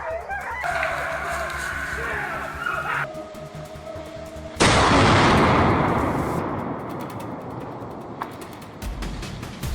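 Gunfire rings out during a wild boar hunt in the mountains: a sudden loud blast with a long, slowly fading rumbling tail, following earlier busy animal-like calls and noise.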